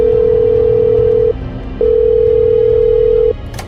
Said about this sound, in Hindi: भूमि डर कर अपने फोन की तरफ भागती है और अपनी मम्मी को फोन मिलाती है